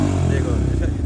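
A Yamaha R15 V3 motorcycle with a sticking throttle runs with a loud, close, steady engine drone. The burst is very short and is partly masked by someone talking over it.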